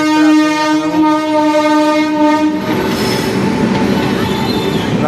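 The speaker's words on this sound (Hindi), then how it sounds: "राप्ती सागर सुपरफास्ट एक्सप्रेस गोरखपुर तिरुवनंतपुरम जा रही है।" The Rapti Sagar Superfast Express, bound from Gorakhpur to Thiruvananthapuram, passes the Daliganj crossing in Lucknow, sounding a loud, sustained horn up close before giving way to the roar of wheels on the rails.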